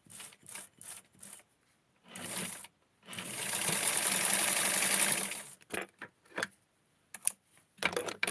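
A sewing machine stitches close to the edge of a doll dress in short bursts, with a longer steady run in the middle and brief clicks between.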